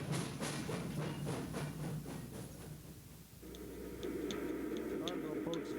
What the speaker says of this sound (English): Oh, look, the train's getting ready to pull out.